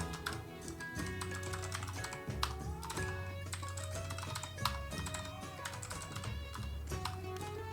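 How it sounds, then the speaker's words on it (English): Computer keyboard typed on while coding a C++ OpenGL game: fast, steady keystroke clicks throughout, close and even, under a constant background music bed. "do you love this coding ASMR stream here? The keyboard ASMR stream?"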